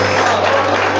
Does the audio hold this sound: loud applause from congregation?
yes